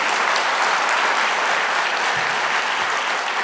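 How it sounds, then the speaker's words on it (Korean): An audience gives a choir a dense, sustained round of applause at an evening church winter camp gathering, steady and loud throughout with no pauses. "우리 기쁜 소식 수원기 합창단에 큰 박수 다시 한번 부탁드리겠습니다"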